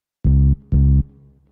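Two loud, deep synth-like bass one-shot hits from a sampler, processed with reverb, delay, a channel strip and micro shift, each note held briefly then cut, followed by a faint reverb tail.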